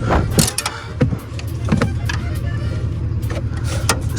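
A 1995 Ford F-350 truck engine idling just after starting, a steady low rumble with some clicks and rattles over it, heard close for a few seconds.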